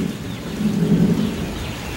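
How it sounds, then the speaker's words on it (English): Thunder during a rainstorm at the start of the rainy season, a low, rolling rumble that swells midway through and fades, over a constant hiss of rain falling on surfaces. "You can hear the thunder."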